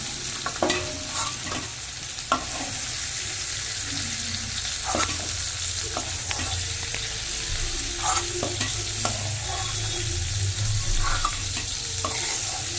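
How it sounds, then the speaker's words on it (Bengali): Cauliflower pieces frying in oil in a pan give a steady sizzle, with repeated stirring scrapes and clinks scattered through it. "এইভাবে নেড়ে চেড়ে হালকা লালচে করে ভেজে নিয়েছি"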